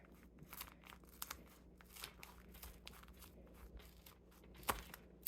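Scissors snipping through paper while making a junk journal, a run of short, quiet crisp cuts and rustles, with one sharper snap near the end.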